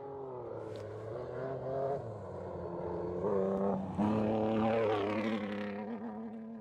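A two-wheel-drive BMW M3 rally car on a gravel stage of the Oregon Trail Rally, its engine revving and climbing through gears as it approaches, rising in pitch and loudness with shifts between pulls.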